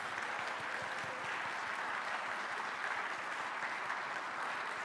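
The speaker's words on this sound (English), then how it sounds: "Give yourselves a round of applause." Audience applause fills a debate hall at an Ohio U.S. Senate Democratic primary debate, a steady, dense wash of clapping sustained at even loudness throughout with no break.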